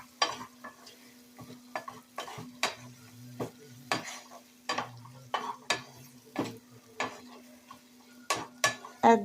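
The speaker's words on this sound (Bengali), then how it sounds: "দিয়ে মশলাটাকে আরও ভালো করে কষিয়ে নেব।" Masala sautéing in oil for a dhaba-style chicken bhuna, with a steady low sizzle under repeated sharp scrapes and knocks of a spoon stirring against the pan, close and fairly quiet.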